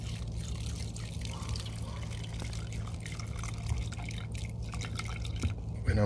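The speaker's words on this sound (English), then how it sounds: "I'm gonna fill this glass up full of gas and let it soak" Gasoline poured into a glass to soak fuel injectors from a 2005 Chevy Malibu 2.2 Ecotec engine, a steady liquid pour and trickle running for several seconds over a constant low hum, close and moderately loud.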